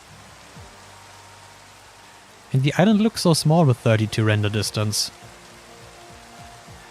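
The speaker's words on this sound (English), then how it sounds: "I kind of like it actually when it rains on this island" Steady rain falls on an island in a video game, a soft even hiss throughout, with someone talking over the middle stretch.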